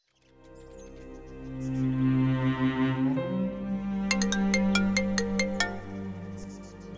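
A mobile phone ringtone plays indoors, a melodic tune swelling up loud and close, then a run of rapid, sharp, evenly spaced electronic beeps before it fades.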